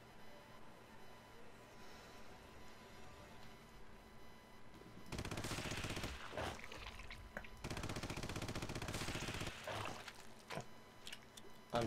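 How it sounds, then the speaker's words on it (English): Pistol gunfire in the first-person shooter Red Faction, inside a genetic engineering facility: after a quiet stretch, dense bursts of loud rapid shots fill the second half in two long volleys with brief gaps. "Pistol rounds kill everything."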